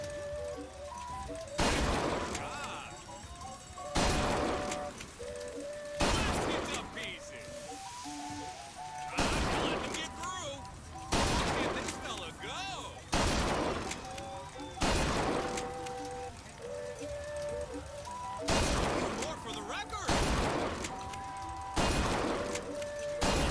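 Gunshots in BioShock Infinite: about a dozen loud, booming shots fired at a steady, spaced rhythm, with someone talking between and under them.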